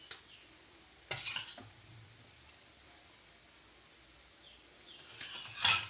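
Fried onions and mint being stirred into oil in a pan for chicken biryani, a soft gentle sizzle under a few scraping stirs of the spoon, quiet and close.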